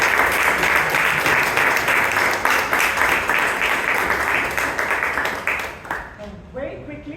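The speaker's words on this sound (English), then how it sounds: "Let's have a big round of applause for all the speakers who came on stage today." A crowd applauds with sustained clapping that fades out near the end, followed by a brief murmur.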